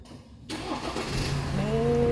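A Ford car engine cranks and fires up at a garage after near silence, catching within a second and settling into a rising, steady idle close by.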